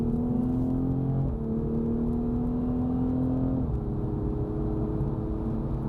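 A Toyota GR Supra accelerates hard on the Spa Nishiura circuit in Aichi, its engine droning loudly and rising in pitch through two quick upshifts, heard close from inside the car.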